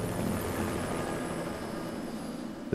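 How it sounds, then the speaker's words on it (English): A firefighting helicopter hovers low over a lake while dipping an orange bucket for water, its rotor and engine producing a steady, loud, close drone with no voices. "The helicopter is lowering down an orange bucket."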